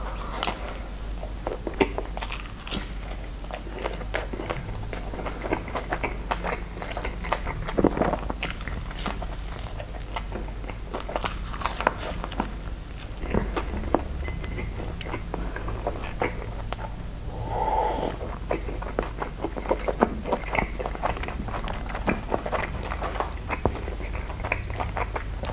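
Close-up biting and chewing of Dodo truffle pizza with mortadella during a mukbang, with soft, steady mouth noises running throughout over a faint background hiss.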